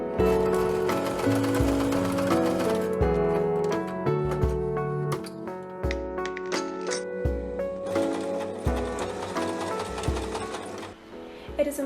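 A sewing machine stitches fabric panels for a five-layer waterproof face mask, running in steady mechanical bursts with brief pauses, close by and over a tonal background.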